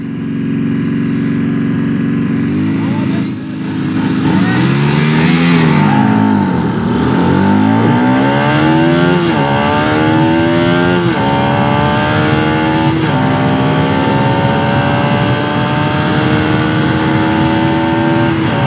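Two motorcycles, a Bajaj Pulsar RS200 and a Keeway V302C, launching in a drag race, with engines rising hard through the gears in repeated climbing sweeps, loud and continuous, with brief dips at each shift.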